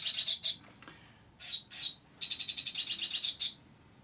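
Squeaky chirping bird-shaped dog toy giving bursts of rapid, high, thin chirps in short trills with gaps between them, faint and close against quiet background hiss, no voices.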